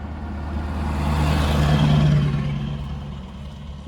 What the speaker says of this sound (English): Buddy with the loud truck.